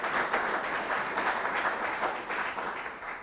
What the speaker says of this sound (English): Big round of applause for Amy and the Presidio for sponsoring this event.